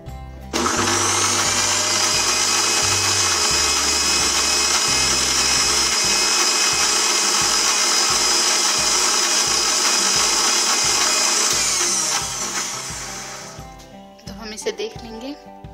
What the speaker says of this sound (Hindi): अब हम ग्राइंड करेंगे।